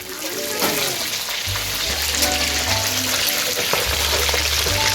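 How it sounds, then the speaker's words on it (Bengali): Fish fries in a hot wok with a loud, continuous close sizzle and hiss, broken by spatula scrapes and a low background hum. "মাছ ভাজা শুরু হয়ে গেছে"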